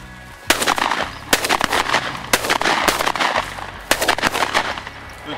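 Shotgun blasts ring out during an outdoor quail hunt. Several sharp, loud shots come in quick succession, some close together, with a faint voice between them.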